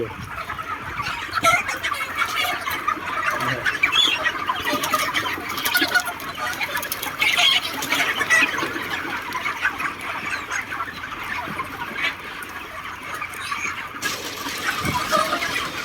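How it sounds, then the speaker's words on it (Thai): A large flock of chickens fills a poultry house on a farm in Israel with dense, continuous overlapping clucks and chatter, close and steady throughout, with one faint crow. "บรรยากาศภายในฟาร์มไก่นะครับผมใหญ่นะครับ"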